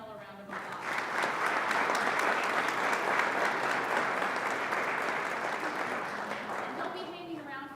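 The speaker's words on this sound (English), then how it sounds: "let's give our panel a round of applause" Audience applause for a panel at a university open house event, a sustained, dense wash of many hands clapping at once, rising quickly and holding steady before tapering slightly at the end, with faint voices underneath.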